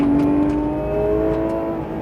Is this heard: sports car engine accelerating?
yes